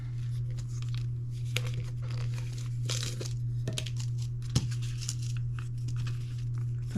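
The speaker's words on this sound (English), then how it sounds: "Okay, so let's do this and start filling in the envelopes" Cash bills and paper expense envelopes handled up close, with continuous soft crinkling, rustling and occasional sharper tearing and crunching paper sounds over a steady low hum, with no one speaking.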